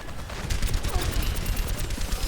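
Rapid gunfire in a shooter video game, loud close bursts of shots rattling on in a fast irregular stream, with a faint voice underneath.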